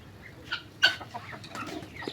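A rooster clucks several times in short, scattered calls, close by and moderately loud against a quiet low hum, with no speech.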